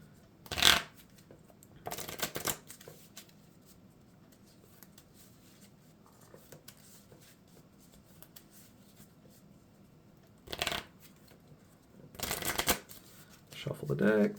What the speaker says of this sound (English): Shuffle the deck